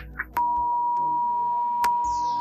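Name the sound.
censor beep over speech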